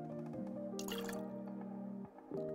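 Creme de Cacao poured into a cocktail shaker for a chocolate whiskey cocktail, a steady liquid trickle and dripping with faint splashing, close and fairly quiet, briefly pausing before resuming.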